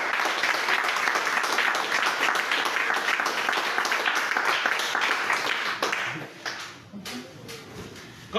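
A church congregation bursts into loud, sustained applause to acclaim the Lord, dense clapping from many hands that holds steady and then thins out toward the end.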